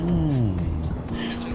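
A motorcycle engine in a modded GTA San Andreas game: a steady, droning engine tone that rises and falls in pitch, continuous and close, with a voice talking over it.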